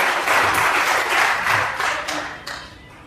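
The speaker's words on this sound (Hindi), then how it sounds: "जोरदार तालियां एक बार इन बच्चों की" An audience claps for a children's dance performance at a college event, loud applause that swells in waves and then tapers off with a few scattered claps.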